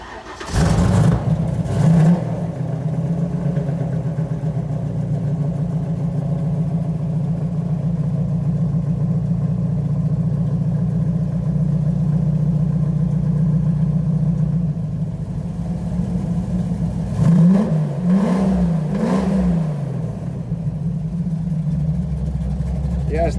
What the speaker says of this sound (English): Yes, that sound is coming out of an Austin Healy.